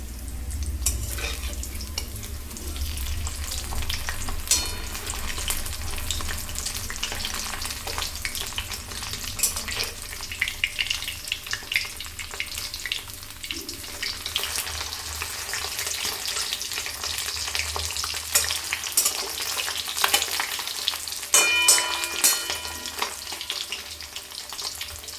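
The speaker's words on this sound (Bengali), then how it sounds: "মাছটা এক পিঠটা ভালো করে ভাজা হয়ে গেছে, এখন আমি পাল্টে দিচ্ছি।" Bata fish frying in oil in a pan gives a loud, continuous sizzle and crackle throughout, with occasional scrapes and stirring noises from turning the fish, close up and with no talking.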